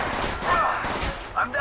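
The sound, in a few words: gunfire in video game Apex Legends Mobile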